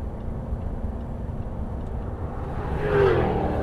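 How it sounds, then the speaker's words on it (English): A race car passes on a track, its engine rising from a steady low rumble to a louder swell near the end as it approaches close by. "One more car to come past us"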